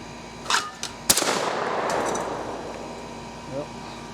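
A Remington 870 pump-action shotgun fires one loud, sharp blast that booms and echoes off outdoors, with softer clacks of the action before it and a brief knock afterward.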